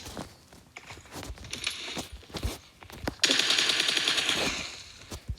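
Gunfire in a PUBG Mobile match: scattered single shots give way to a dense, sustained automatic burst during the latter half, moderately loud with faint clinks and rustles between shots and no talking.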